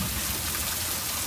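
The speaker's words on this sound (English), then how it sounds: "But I do love the sound of that rain." Steady, heavy rain falls in Oklahoma as a dense, unbroken hiss with no voices or other sounds over it.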